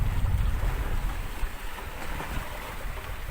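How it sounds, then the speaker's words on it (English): A sailboat runs dead downwind at sea in strong wind, a continuous wash of rushing water and wind noise buffeting the microphone, close and steady with no voices. "Looking out astern, you can see we're just about sailing dead downwind."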